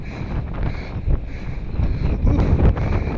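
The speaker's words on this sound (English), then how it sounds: "this direction is real windy" Strong gusts batter the microphone outdoors, producing a low, rumbling buffet that swells and dips in uneven surges, loudest toward the end.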